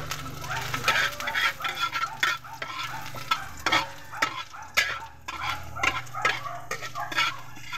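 Garlic frying in a home kitchen pan, with bursts of sizzling and scraping stir strokes; a dog barks faintly in the background.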